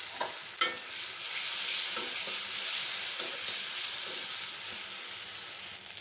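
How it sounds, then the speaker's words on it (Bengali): Onion, green chili and cinnamon sautéing in a pan for an egg curry, a steady bright sizzle with a few soft stirring clinks near the start, no one speaking. "দিয়ে পেঁয়াজ দারচিনিটা ভালোভাবে কষিয়ে নেব"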